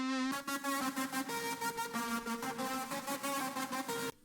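A dry synthesizer riff plays a bright, buzzy plucked pattern in rapid, evenly spaced notes. It repeats steadily and upfront for about four seconds with no talking, ending abruptly.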